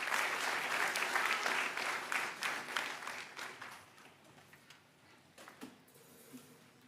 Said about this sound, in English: One round of applause for that beautiful worship.